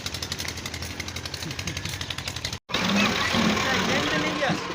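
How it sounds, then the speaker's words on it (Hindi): A tractor engine runs while a blade is fitted, a loud rapid knocking diesel chug that pauses for an instant then resumes rougher, with people talking over it. "देख रहे हैं ट्रैक्टर को ब्लेड लगाते हुए"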